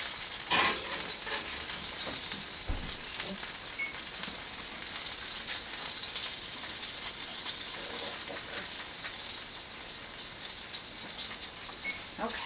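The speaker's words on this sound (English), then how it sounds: "Kind of sizzling there. Yeah, the butter, the herbs." Butter and herbs sizzle steadily in a pan, a continuous close crackle and hiss with occasional small pops, running evenly the whole time without any talking.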